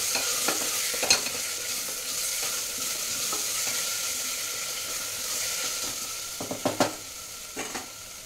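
Ginger garlic paste sizzles and spits in a pan while a spoon stirs it through, a close, steady frying hiss broken by a few sharper clinks and scrapes, with no voices.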